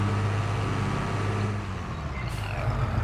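Engine of a 1980s-era tractor in a farming video game, a steady low diesel rumble idling close by with a brief higher hiss near the end and no talking.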